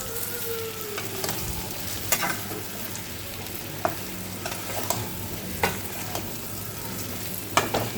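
Food in a pan over moderately low gas heat is stirred while it fries, with a continuous soft sizzle and sharp scraping clicks of the utensil recurring every second or two.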